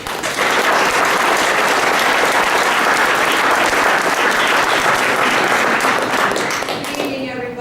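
A crowd at a Reading, Pennsylvania public meeting on recreational marijuana breaks into loud sustained applause, a thick wash of clapping that holds steady for several seconds before thinning toward the end.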